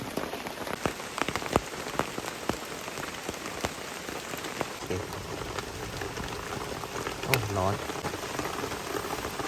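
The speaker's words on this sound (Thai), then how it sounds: "ช่วงนี้ฝนเริ่มที่จะตกแล้วนะครับ" Steady rain patters on surfaces around a forest hunter's hut, with scattered sharp drips and splats over a constant wash, while a pot starts to simmer nearby.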